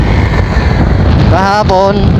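Heavy wind rumbles steadily against the microphone at a lagoon in Cataingan, Masbate, loud and close, with a person talking briefly over it.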